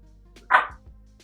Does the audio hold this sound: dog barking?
yes